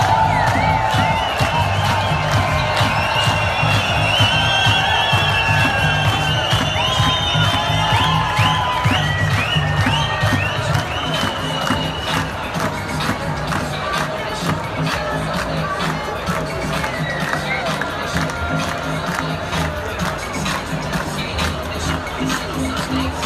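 A huge crowd of tens of thousands protesting around Dam Square in Amsterdam against vaccine mandates, a dense continuous roar of voices with whistles and cheers rising above it throughout.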